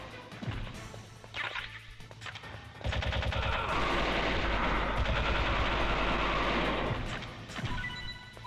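Heavy gunfire in the stealth action game Metal Gear Solid on PC during a prison break, loud bursts that build into a dense, continuous barrage of shots and crashes before easing off.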